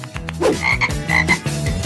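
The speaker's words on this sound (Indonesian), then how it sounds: "Seekor katak." Loud, close frog croaks in a repeating rhythm, several throaty calls in quick succession with brief gaps between them.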